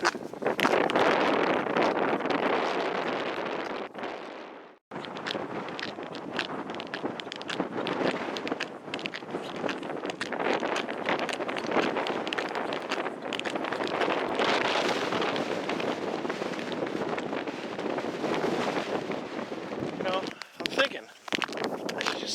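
Loud, steady wind storm roars and buffets the microphone outdoors on a frozen lake during ice fishing, with rough gusting texture and a brief cutout early on, then continuing without a break.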